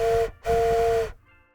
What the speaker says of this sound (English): it's a physical wooden whistle